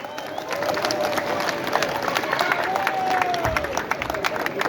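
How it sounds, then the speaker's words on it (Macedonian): A crowd at a village summer festival in Rusinovo claps together in sustained, dense applause that stays steady and loud throughout, with some background murmur. "Ве молам да ги поздравиме со еден аплауз"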